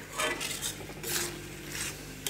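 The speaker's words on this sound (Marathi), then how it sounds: "हे असं हलवायचं, जाड होईपर्यंत हलवायचं ह्याला" Carrot halwa is stirred in a pan, giving soft, quiet scraping and light clinks of a spoon against metal in a few short strokes. No talking.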